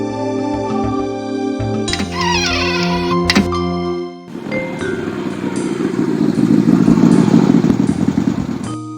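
Jack's motorcycle in the Darkseed II video game: after a stretch of synth music, the engine starts up loud and close, then idles and revs with a steady rumbling growl through the rest of the clip.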